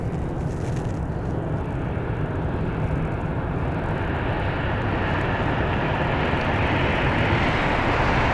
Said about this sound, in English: Next up for departure is going to be Southwest 502, heading over to Phoenix, Arizona on a Boeing 737-800.